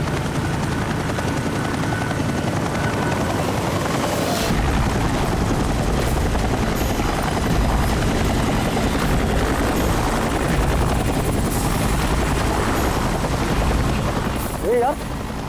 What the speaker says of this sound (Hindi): अरे यार, ये हेलीकॉप्टर इतना नीचे क्यों उड़ रहा है?